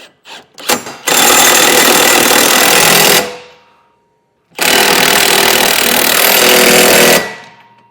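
Socket wrench or power driver tightening nuts onto hitch bolts during a hidden trailer hitch receiver install, with two loud sustained bursts of rattling, whirring tool noise separated by a short pause, after a few brief clicks at the start.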